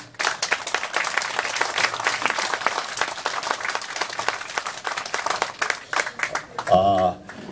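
A crowd at an outdoor political rally applauds as a former vice defense minister comes forward, with sustained clapping from many people. A voice breaks in briefly near the end.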